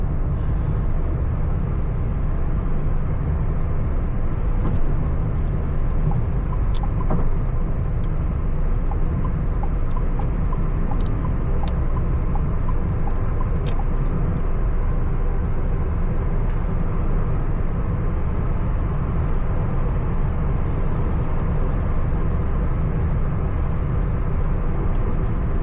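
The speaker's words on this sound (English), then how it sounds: "There's a lot of cars." Steady road traffic near Riyadh, Saudi Arabia, a continuous broad rumble of passing cars heard from inside a moving vehicle, even and unbroken throughout with no voices.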